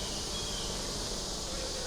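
A dense, steady buzzing drone of many honey bees, close and constant with no pauses, like standing over an open hive.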